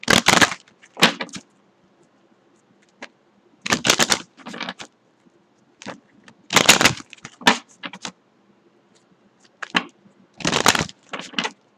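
Deck of Power of Love activation cards being shuffled by hand in short, crisp bursts of riffling and slapping, separated by near-silent pauses.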